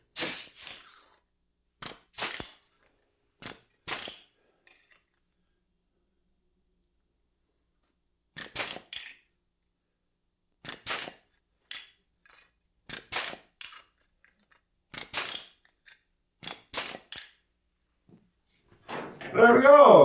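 Plug weld holes are punched into sheet metal flanges on a rocker panel for a 1965 Thunderbird Convertible, each a sharp, crisp snap. About a dozen isolated clicks come singly and in pairs with quiet gaps between them, and a brief rustle follows at the end.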